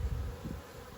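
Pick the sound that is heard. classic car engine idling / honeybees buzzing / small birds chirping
honeybees buzzing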